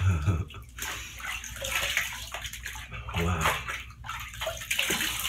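Water rinsing shaving soap out of a beard: continuous splashing and running-water wash with sloshing pulses, fairly close, while a voice speaks briefly over it.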